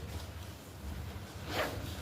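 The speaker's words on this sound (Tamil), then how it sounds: "இது உள்ள ஒரு ஜிப் இருக்கு." A zip inside a bag is pulled open in one brief, close rasp near the end, over faint room noise.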